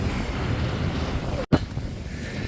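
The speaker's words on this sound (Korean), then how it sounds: "진짜 바람이 개쳐 불어요" Strong wind in rainy Spanish weather buffets the microphone with loud, continuous low rumbling. There is a brief dropout partway through.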